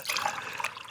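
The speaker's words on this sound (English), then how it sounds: "now I can just pour myself a cup of coffee." Coffee poured from a pot into a cup, a short close liquid pour that trickles and splashes steadily for under a second.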